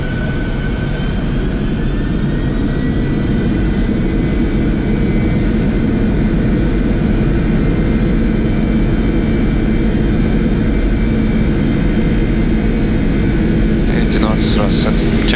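Boeing 747-400 jet engines spooling up to takeoff thrust on the runway at Mumbai, heard from the cockpit as a loud, steady, dense roar and rumble that runs throughout, with crew voices talking over it.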